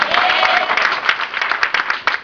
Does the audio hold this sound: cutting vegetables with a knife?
no